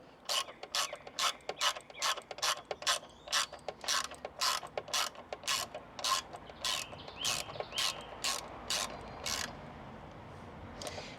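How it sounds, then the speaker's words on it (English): A hand ratchet tightens a 10mm bolt on a Honda Monkey Z125 brake caliper, giving a series of quick, close clicking bursts in steady strokes, with short pauses between them and no talking. "All you need to do now is tighten up this bolt here"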